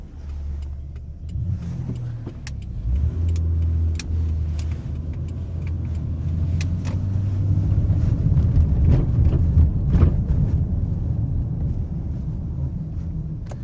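A 2012 Honda Ridgeline RTS AWD cruises down a road with a steady engine hum and tire rumble that swells slightly as it moves along, with no talking.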